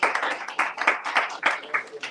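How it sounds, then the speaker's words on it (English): A small audience at an entrepreneurship event gives a short burst of close, irregular hand clapping, with a voice faintly mixed in. "Okay, round of applause."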